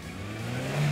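A Hyundai Veloster crawls over rocks on a dirt trail, its engine droning steadily and then swelling louder in a brief rev near the end, close to the microphone.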